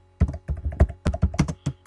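A computer keyboard is typed on in a quick, uneven burst of about a dozen close, crisp keystrokes while a folder name is entered, with no talking.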